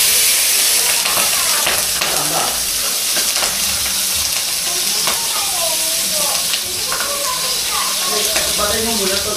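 Food frying in a pan at home, a steady loud sizzle and hiss running throughout with stirring clatter, while several people talk and chatter over it.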